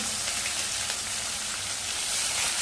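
Onion hits hot oil tempered with curry leaves and asafoetida for sambar, crackling in a loud, dense, close sizzle that holds steady throughout.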